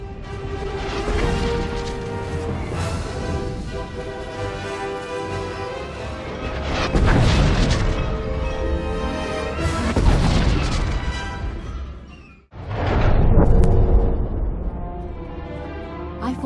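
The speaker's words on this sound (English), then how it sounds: "Coming in for a bombing run." Bombing-run explosions strike a base whose shields are down in the Star Wars: The Old Republic video game: a dense, continuous barrage of loud booms and crashes over a sustained musical layer, cutting out briefly before a final heavy blast.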